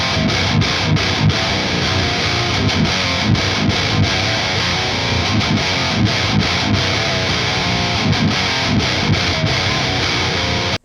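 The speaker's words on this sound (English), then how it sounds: "You have an option here to bypass the pre-gain, essentially making this a clean boost." Electric guitar played through an Electric Eye Mud Killer pedal set as a clean boost with the pre-gain bypassed, producing a loud, continuous run of strummed chords with steady rhythmic accents and no talking.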